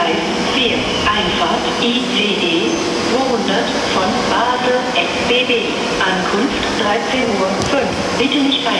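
A train pulls into a platform at Cologne main station, its steady rolling rumble and squealing wheels filling a busy, echoing hall where announcements and voices carry over the sound.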